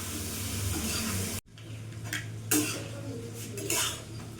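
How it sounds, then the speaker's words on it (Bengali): Potato and papaya chunks frying in oil with salt and turmeric, a soft sizzle under spoon scrapes and clinks against the pan, with a brief pause and a few sharper stirring strokes. "এতে ভালো করে আলু আর পেঁপেতে ভালো করে লবণ হলুদ দিবে, আর কিছুক্ষণ ধরে এখন নাড়াচাড়া করে আমি ভাজা ভাজা করে নেব।"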